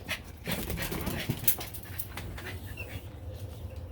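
Dogs panting close by at home before being let out, a steady soft huffing breath with a brief whimper, fairly quiet over a low room rumble.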